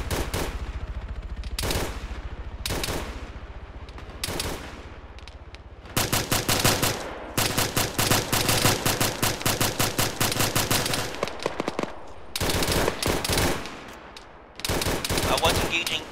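Automatic gunfire in the military shooter Arma, as a fire team is engaged in an open field: sharp bursts at first, then sustained, dense rattling volleys with brief pauses, loud and close, with radio chatter in between.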